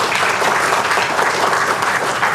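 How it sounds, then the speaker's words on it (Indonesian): Steady audience applause at a talk or seminar, dense, continuous and evenly loud for the whole stretch, with no voices standing out. "Tepuk tangan buat kita semua sekalian."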